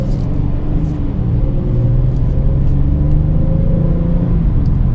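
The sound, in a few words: Hyundai Palisade naturally aspirated V6 engine accelerating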